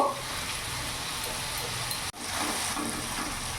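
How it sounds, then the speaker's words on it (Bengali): Spice paste of salt, turmeric and cumin powder fries in oil for a rohu fish curry, giving a steady soft sizzle with faint stirring scrapes and one brief dip partway through. "ভালো করে কষিয়ে নেব মশলাটা"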